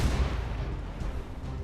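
Ship cannons fire during a naval battle in Assassin's Creed Rogue, a heavy booming blast followed by a loud rumbling roar with further deep thuds beneath.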